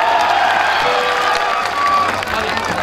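Live crowd applause and cheering at a Punjabi folk singer's stage show in Pharala, a dense steady wash of clapping and voices with no break.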